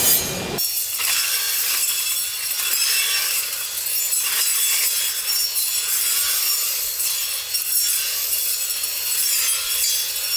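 A Makita cordless brush cutter (MUR005G) bites into a log, producing a loud, continuous rough grinding-rasping noise that holds steady for the full stretch after a brief opening burst.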